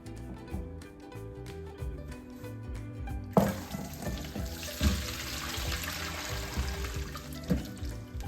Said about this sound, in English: So let's pour the vinegar.